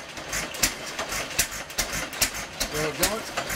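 A 100-year-old Little Jumbo hit-and-miss engine, running a rice process, fires in uneven thumps and chuffs, some beats skipped, with people talking over it.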